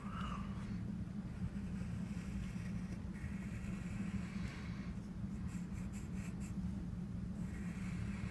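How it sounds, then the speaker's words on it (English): Pencil drawing lightly on paper, a steady soft scratching that runs continuously over a low background hum, close and quiet throughout. "make sure that you're drawing nice and light in case you make any mistakes and need to erase along the way"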